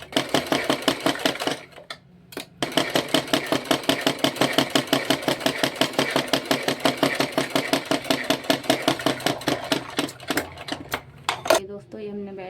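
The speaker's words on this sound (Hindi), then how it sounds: "अब हम इसकी एक और सिलाई करेंगे, फोल्ड करेंगे।" Sewing machine stitching the belt of a blouse, running in a fast, steady rhythm of needle strokes through most of the stretch, close and clear, pausing briefly near the start and near the end.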